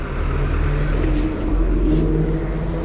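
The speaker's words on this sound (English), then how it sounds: "Oh, this traffic is awful." Steady road traffic on a road near Valparai in the Anamalai hills, a car engine droning and accelerating nearby, loud and continuous with no talk.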